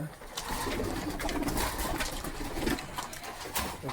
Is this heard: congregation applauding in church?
no